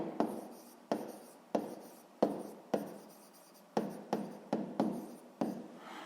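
A hand writes out a sixth-grade math exercise in a steady sequence of about a dozen short, scratchy strokes, each starting sharply and trailing off, close and alone.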